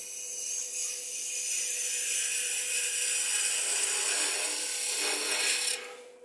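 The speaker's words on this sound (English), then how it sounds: "So now I'm using a conventional spindle gauge. I want to have a little bit more maneuverability, so I'm using that 1/2 inch gauge." A conventional 1/2 inch spindle gouge cuts wood on a lathe, making a steady, bright hissing scrape that holds for several seconds at moderate level before fading out near the end.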